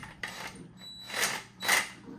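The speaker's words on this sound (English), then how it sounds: "we're just gonna drive the bolts with this gently and consistently from all sides" Clutch bolts being driven in on a 1972 MG, heard as a few soft metallic mechanical bursts spaced apart, moderately faint with no talk.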